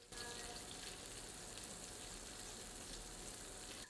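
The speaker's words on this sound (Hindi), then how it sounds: "इसे मध्यम आंच पर सुनहरा दिखने तक भून लेते हैं।" Onions frying in mustard oil in a cast iron pot over medium heat, a steady dense sizzle that runs unbroken and fairly close throughout, with no talking.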